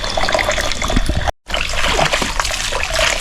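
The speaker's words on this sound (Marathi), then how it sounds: "आपल्या पिण्याच्या पाण्यात घरातल्या चांगल्या स्वच्छ ना असा टपामध्ये भरून पाणी घेतो" Clean drinking water poured from a pot into a household tub, a loud continuous splashing and trickling pour interrupted by one short pause before resuming.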